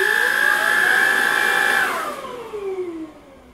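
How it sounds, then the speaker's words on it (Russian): A Redmond 2-in-1 cordless vacuum cleaner whines loudly and steadily up close, then is switched off and its motor pitch slides down as it spins to a stop. "помогает мне пылесос 2 в 1 Redmond, который можно использовать как дома, в автомобиле, так же и в мастерской"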